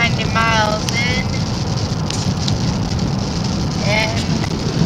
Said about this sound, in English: And listen to that, it's just now starting to rain.